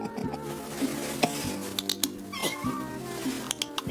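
A family cat meows several times in close succession, clear and nearby, with drawn-out tonal cries, some rising into strained wails, separated by short pauses.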